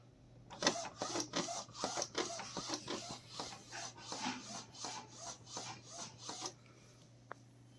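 An Epson L1800 DTF roll-to-roll printer prints with quiet, close, rhythmic passes of the print head, about a dozen back-and-forth strokes over a low steady hum, then stops. No one talks.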